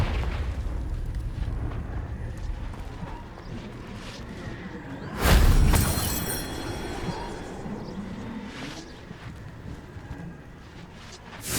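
A Confringo fire spell from the video game Hogwarts Legacy bursts in a single loud, booming blast mid-clip, with a rumbling decay that fades back into a steady ambient game backdrop.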